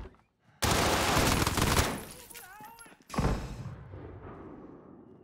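Rapid MP5 submachine gun fire in the Call of Duty: Modern Warfare video game, two loud, dense bursts separated by a short gap, with a voice and tonal game sounds between them and a fading tail.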